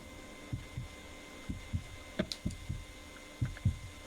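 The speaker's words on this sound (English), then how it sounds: "Heart beating fast." A fast heartbeat sound effect thumps in quick paired low beats, steady and close, over a faint hum.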